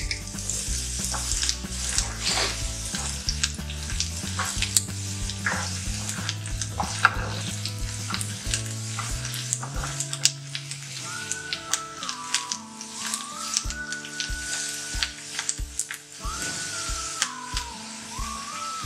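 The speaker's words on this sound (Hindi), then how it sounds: "इसमें हम अब बाकी चीजें डाल के मसाला भूनेंगे" Onion masala with turmeric powder fries in a pan, giving a continuous sizzle with stirring scrapes, while louder music plays over it throughout.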